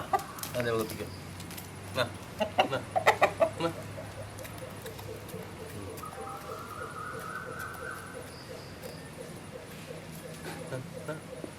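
A 12-year-old rooster in Kerala pecks at scattered wheat, giving a quick series of soft clucks and pecking taps early on, then quieter scratching against faint background noise.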